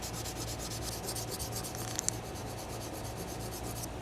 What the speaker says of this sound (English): All I'm doing is just taking sandpaper in my hand, running the little spacer over the edge, and then I just do it by hand